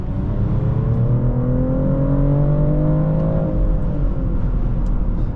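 A 2024 BMW X5 xDrive50e accelerates, a smooth engine tone rising steadily in pitch under a constant cabin road roar, heard from inside with no voices.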